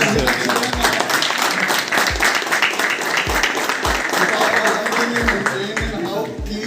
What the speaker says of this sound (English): think we can have a round of applause